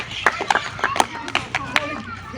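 A small crowd claps for a contestant at a rural village ball-throwing game, scattered uneven claps close by with voices talking over them.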